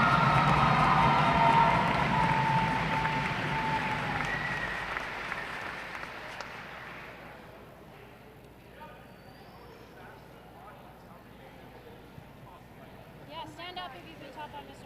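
An audience applauds new inductees at a school gathering. The clapping starts loud and fades away over the first half, leaving quieter room noise, shuffling and faint voices.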